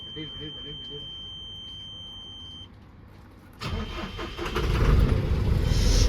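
A vehicle on a long road trip starts on a new battery, the starter cranking briefly before the engine catches and revs up loudly; a steady electronic beep and nearby speech precede the start.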